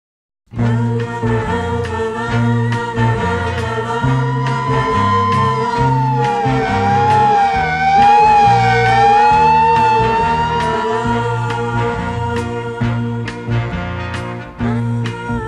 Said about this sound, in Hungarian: utolsó beszélgetésünket egy száguldó mentőautó szirénája szakította félbe.